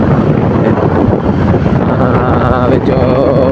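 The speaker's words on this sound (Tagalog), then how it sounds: "lakas ng hangin." Strong wind buffets the microphone with a loud, continuous roar and rumble, drowning out most other sound.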